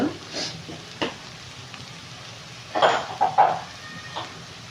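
Spices stirred into a pan of frying rice with sweet potato and cabbage, giving a soft steady sizzle broken by a few louder scraping stirs near the middle.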